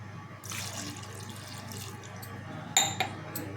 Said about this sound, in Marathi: त्याच्यामध्ये आपण पाणी टाकून घ्यायचं आहे